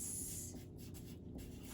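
Fractions written by hand on paper, a faint close scratch of pen strokes in short bursts and pauses, quiet and alone.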